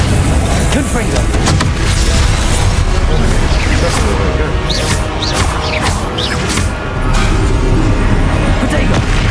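Confringo blasting spells exploding in the video game Hogwarts Legacy, a dense barrage of loud booms, crashes and whooshes of combat with no pause between the blasts.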